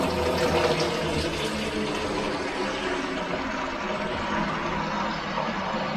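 Water rushes steadily through a hose while filling radiant floor heating loops, a continuous close hiss and gush with a low rumble that holds an even level throughout.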